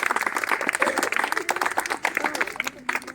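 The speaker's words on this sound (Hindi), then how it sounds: "ये तालियां" Applause and scattered clapping at a lively group Post Office game, uneven bursts mixed with excited voices and chatter throughout.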